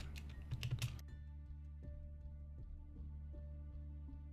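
Quick keystrokes on a computer keyboard, typed while searching for the mobile game The Walking Dead: Road to Survival, clatter loudly for about a second. Then they give way to a steady tonal hum with occasional soft ticks.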